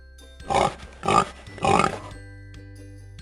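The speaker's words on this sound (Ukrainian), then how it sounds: "Це ж поросятко!" A pig grunts and oinks three times in quick succession, loud and close, with brief pauses between calls.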